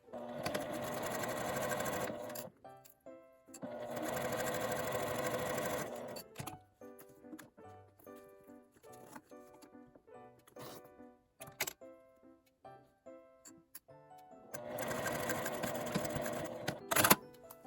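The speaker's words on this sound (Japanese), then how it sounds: "ファスナーの端をこの留め具のところまで縫います。" A sewing machine stitches a zipper end on a small quilted fabric pouch, running in three steady whirring bursts separated by quiet pauses with faint handling clicks.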